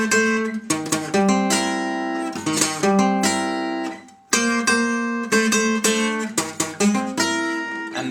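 Acoustic guitar picking the closing phrase of a boogie-rhythm blues in C: crisp plucked notes and ringing chords, a brief gap midway, then another run of picked notes and strums, close and alone.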